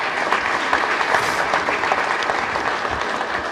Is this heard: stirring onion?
no